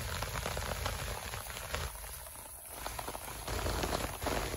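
Steady winter rain falling outdoors, a dense even hiss of drops on leaves and ground, moderately close and continuous with no voices.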